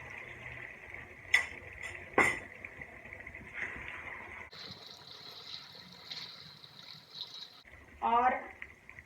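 Water poured into chicken curry in a hot pan, producing a short sizzling, bubbling burst after a few clinks of utensils and a stretch of steady cooking hiss.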